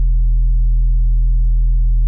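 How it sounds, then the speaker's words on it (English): A deep, steady sub bass tone built from two triangle waves run through a saturator hums continuously and loudly with no other sounds. "This is the sub bass I did with my previous tutorial."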